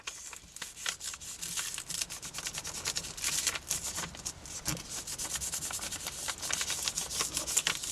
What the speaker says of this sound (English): I'm just going to give it a good old rub.